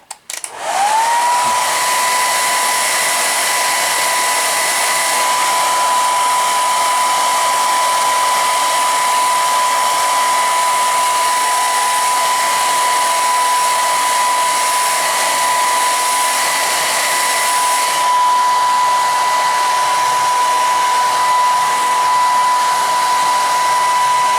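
A hair dryer blows air through hair during styling, starting with a quick rise and then holding a loud, steady whine and rushing airflow for the whole stretch, close and without talk.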